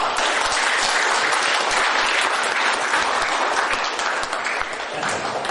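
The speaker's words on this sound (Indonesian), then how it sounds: "Tepuk tangan." Loud, close audience clapping at a gathering runs steadily throughout, thick and continuous with no breaks, easing slightly toward the end.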